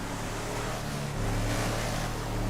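A steady engine drone from a car driving in a GTA roleplay game, continuous and fairly loud with a broad rushing noise and a slight shift in pitch midway, no voices.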